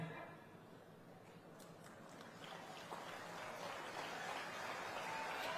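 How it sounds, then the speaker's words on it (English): Applause from an audience honoring family members, including grandparents, at a gathering for a Rajasthan royal family, rising gradually from a soft patter to a fuller, steady clapping over several seconds. "this round of applause is for you, my family members."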